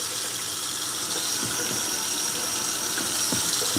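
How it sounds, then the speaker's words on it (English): Parsley rinsed under a running kitchen tap, a steady broadband hiss of flowing water throughout with a few faint handling clicks, close and continuous. "Rinse off this parsley a little bit."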